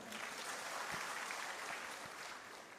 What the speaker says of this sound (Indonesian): Beri tepuk tangan dulu untuk Pak Rektor.